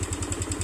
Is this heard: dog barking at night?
no